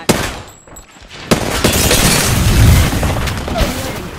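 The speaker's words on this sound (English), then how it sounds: "Getting shot at." Apex Legends firefight with incoming gunfire: a sharp shot near the start, then continuous rumbling bursts and booming impacts at close-to-mid range, loud throughout with a brief lull early on.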